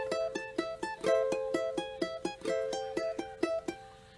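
Fingerstyle ukulele intro to a song, a steady run of single plucked notes with some two-note chords, close and clear, played alone with no talk.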